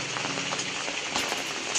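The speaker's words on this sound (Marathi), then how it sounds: "मे महिना चालू आहे आणि मुसळधार पाऊस" Heavy monsoon rain pours down in a Konkan village in May, a dense, continuous hiss of drops striking surfaces close by, with no voices.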